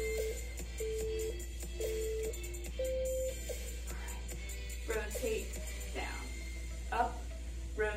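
Workout interval timer beeping at a steady pace, several short electronic tones spaced about a second apart, fairly quiet over a low background hum, with a voice speaking briefly near the end.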